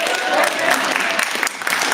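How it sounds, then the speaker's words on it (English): An audience at a student-written medieval comedy stage show applauds the student playwright, with a burst of lively, continuous clapping that fills the hall and eases briefly near the end. "Ceridwen, another round of applause"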